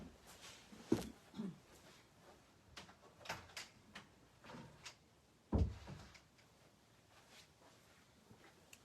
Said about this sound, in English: So I'm just going to close the door because someone's home.